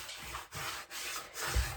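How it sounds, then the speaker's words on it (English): Hands rub the inside of a large floured Tupperware bowl to loosen leftover dough, making three or four close, soft scrubbing strokes in a steady back-and-forth rhythm. "I always give the bowl a good rub and get the excess dough that did stick on it off."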